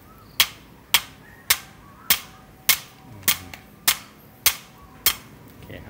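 A long 240 cm grounding rod for a solar panel DC ground is hammered into the soil with about ten evenly spaced, sharp metallic strikes, each ringing briefly, close and loud.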